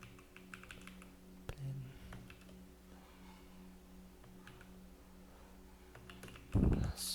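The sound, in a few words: typing on a computer keyboard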